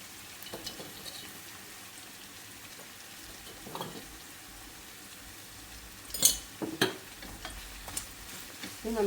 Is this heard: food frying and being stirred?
yes